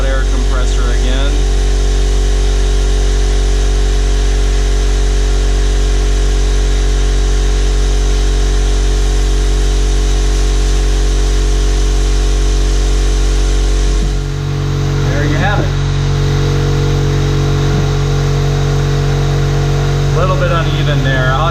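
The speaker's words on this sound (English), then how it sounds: "Big loud air compressor again." A big, loud air compressor drones steadily and close, then shifts pitch midway into a different steady hum, with a voice talking faintly over it.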